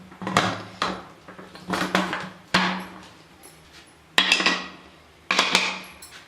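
Metallic clanks and scrapes of a pressure cooker lid being handled and fitted while cooking mutton chops, several sharp knocks spaced irregularly, close by.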